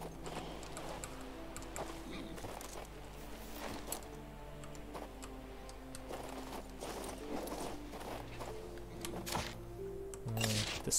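Horse hooves trot in King's Bounty 2, a steady clip-clop of game footfalls running under layered background music throughout.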